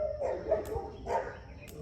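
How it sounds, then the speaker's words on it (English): Dogs bark a few times at a distance outdoors on a small farm in Ghana, short faint yips and woofs spread over under two seconds. "Excuse the dogs"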